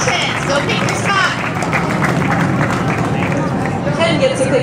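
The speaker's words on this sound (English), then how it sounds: "Let's give a great round of applause for Ken." A crowd applauds and cheers for Ken, the winner of a kids' fundraiser, with dense steady clapping and loud chatter filling the space throughout, close and continuous.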